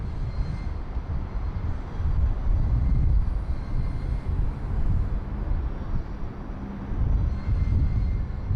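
An Airbus airliner at Bangkok airport, arriving from Phnom Penh, heard as a continuous low engine roar of moderate loudness that rises and falls gently, with no voices.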